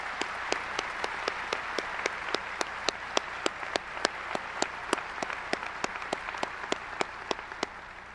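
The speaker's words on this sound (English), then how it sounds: "let's give them both a round of applause again" A graduation ceremony audience applauds a performance with steady, even clapping, a dense wash of hands under sharper rhythmic claps from nearby, continuing at a moderate level.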